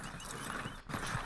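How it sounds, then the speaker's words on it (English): Hooves of a horse clip-clop at a walking pace in Red Dead Redemption 2, a steady soft plodding rhythm with no speech over it. "My horse was able to swim over here with one stamina"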